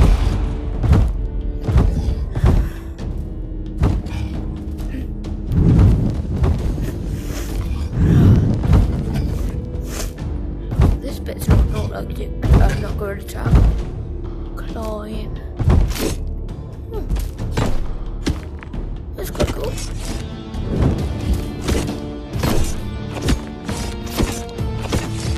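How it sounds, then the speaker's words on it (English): Objects being smashed in rage mode in the VR video game No More Rainbows, a long run of loud, close crashes, thuds and shattering impacts in uneven bursts. "Rage mode. Destroy the environment."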